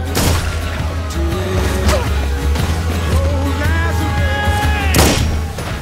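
Several sharp gunshot bursts crack over a tense mix of rumble and music in a scene from the TV series The Blacklist, with a loud blast near the start and another near the end.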